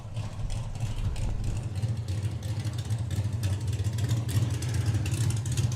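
A Ford 100E Squire drag racing car revs at a drag strip, a deep rumbling engine holding a low steady growl with slight surges, moderately loud against an outdoor crowd background.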